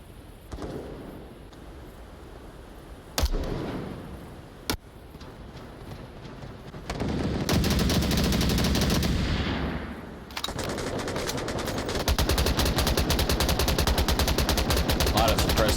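Gunfire in a VR shooter game match: several sharp single shots early, then sustained rapid automatic bursts filling the latter half, with a commentator talking over it.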